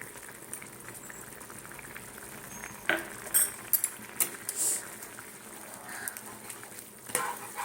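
A pot of chicken and vegetable soup boils, giving a soft continuous bubbling with scattered pops and a few sharper clicks, fairly quiet and with no voices.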